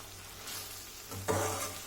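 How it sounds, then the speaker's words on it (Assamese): Kaju chicken masala stirred and fried in a pan, giving a soft sizzle with a brief louder scrape of stirring near the end, close and without talk. "এনেকৈ লৰাই মই 2-3বাৰমান ভাজি থাকিম"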